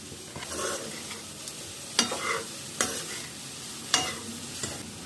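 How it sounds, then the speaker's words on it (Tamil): Spring onion greens and egg are stir-fried in a pan, a faint sizzle cut by a few distinct spatula scrapes and knocks at irregular intervals. "நல்லா வதக்கி விட்டுடலாம்."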